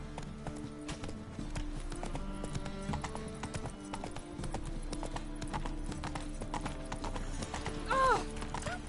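The Witcher 3 horse Roach trots with steady, close hoof clip-clops over game music, and a short whinny near the end.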